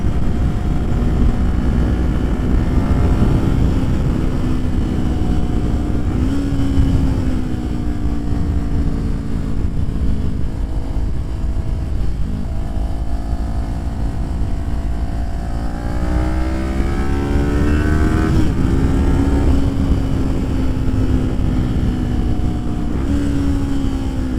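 Kawasaki Ninja 400 engine climbing and falling in pitch with each throttle change while cornering on the twisty Palomar Mountain road, with steady loud wind roar throughout.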